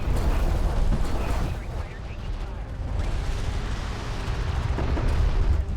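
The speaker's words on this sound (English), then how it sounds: "Things are exploding everywhere" Explosions rumble continuously through a space strategy game battle involving strike fighters and a turret, a dense, low, booming barrage that swells and eases, with someone talking over it.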